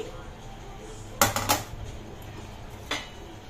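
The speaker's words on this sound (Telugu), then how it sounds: "మనం బెండకాయ ముక్కలన్నీ బౌల్లో వేసుకుంటున్నామండి" Cut okra pieces drop into a bowl in a few quick clattering bursts, a short cluster of clinks followed by one more a moment later, close and fairly soft against a quiet kitchen.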